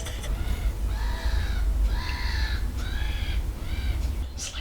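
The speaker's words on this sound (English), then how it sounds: "The birds are so noisy." Loud harsh caws from crows repeat several times in quick succession, close by, over a low rumbling background.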